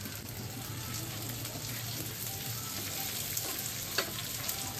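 Gobindobhog rice for bhuna khichuri fries in a pan with a steady, close sizzle, while a few light scrapes and taps of stirring break through near the end; no one speaks.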